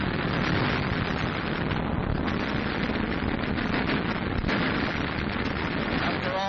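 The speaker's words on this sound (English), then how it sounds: "Watch this explosion." Dense, loud roaring blast of a rocket explosion from a wartime air attack, sustained for several seconds, muffled and broadband like an old recording.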